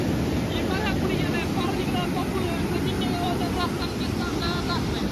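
Floodwater from an overflowing dam pours through a village in Sarate Vadgaon, a loud, constant rushing roar of water filling the whole stretch without pause, mixed with wind buffeting the microphone.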